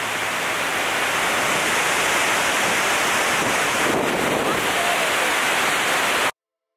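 Iguazu Falls at the Devil's Throat roar as a dense, constant wash of falling water, loud and unbroken, with wind buffeting the microphone.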